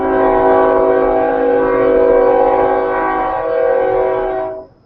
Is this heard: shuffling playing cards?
no